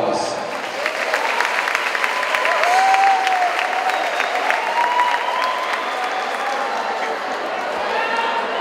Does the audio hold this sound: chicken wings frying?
no